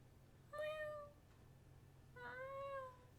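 Two drawn-out cat meows from a person imitating a cat, separated by a short pause, clear and close against a quiet background.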